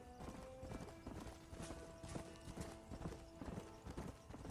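Horse hooves clip-clop at a slow, steady pace along a trail in a video game, a soft continuous rhythm of footfalls with a brief whinny and no talking.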